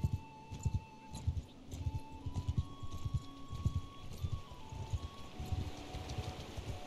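Horses gallop away in the video game Mount & Blade II: Bannerlord, a steady rhythmic clip-clop of hooves running throughout at close to moderate distance, with no talk over it.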